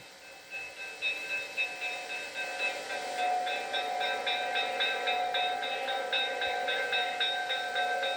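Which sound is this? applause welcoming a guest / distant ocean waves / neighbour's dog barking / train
train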